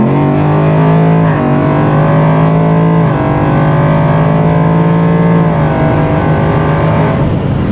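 Boosted Ford Mustang Foxbody with a Gen3 10R80 automatic accelerating hard, loud and close, its engine note climbing steadily through several upshifts with brief dips between gears, with no talk over it.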